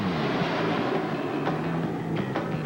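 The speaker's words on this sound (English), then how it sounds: "We've been cleared for takeoff." An airliner taking off, a steady loud roar of jet engines with rumbling low end and a rushing hiss, sustained without pause and with no voices.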